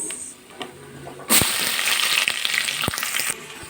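Onions, green chilies and peanuts sizzle loudly in hot oil in a pan, a bright frying hiss that starts suddenly and holds steady with a few stirring knocks.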